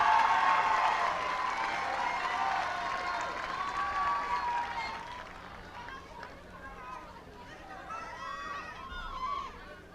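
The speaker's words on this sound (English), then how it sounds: "Take a nice round of applause for those teachers." Crowd applause for the teachers at a 2016 high school graduation ceremony, a broad clapping wash that fades gradually as an amplified voice speaks over it and carries on alone near the end.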